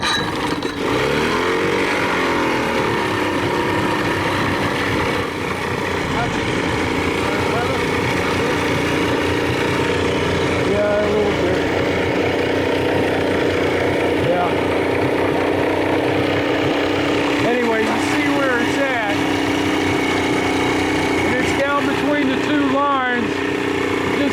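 A 1987 40 hp Johnson outboard motor idles unevenly throughout, a continuous low mechanical hum with a few revving blips, while someone talks over it.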